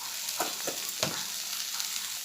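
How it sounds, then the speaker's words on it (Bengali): Potatoes frying in a pan, a steady close sizzle with a few brief scraping stirs, no voices. "আলুটা ভালো করে ভাজা হয়ে গেছে"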